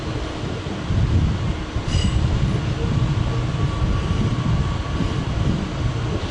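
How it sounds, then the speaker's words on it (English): National Express regional train pulling out of Köln Hbf toward Wuppertal, a continuous rolling rumble of wheels on track with a brief high squeal partway through, close and steady. "National Express service to Wuppertal."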